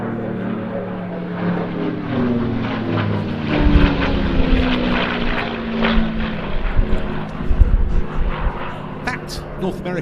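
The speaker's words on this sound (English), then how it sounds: "the aeroplane that's now running in from our left" North American P-51D Mustang piston engine droning loudly as the propeller aircraft makes a run-in pass at an air display, with a steady growl that swells and shifts in pitch under a commentator's voice.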